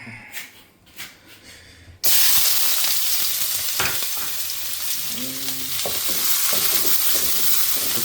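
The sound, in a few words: onions frying in ghee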